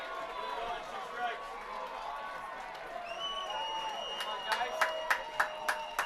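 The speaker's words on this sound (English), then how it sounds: "The crowd here at Black Hills Energy Stadium rising to the feet." Baseball crowd at Black Hills Energy Stadium rising to its feet, a steady murmur of chatter building into scattered claps and cheers that grow sharper and more frequent toward the end, with announcer talk running over it.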